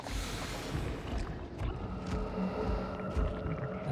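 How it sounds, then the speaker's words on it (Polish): A distant generator engine in the horror game Dead by Daylight, a low continuous rumbling drone that stays faint and steady throughout, with a few soft higher clicks over it and no talking. "Ten daleki silnik."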